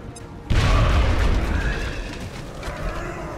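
A grenade detonating in X-Com: Enemy Unknown, one sudden loud blast that breaks from near quiet and then rumbles and crackles away over the next few seconds, no talking.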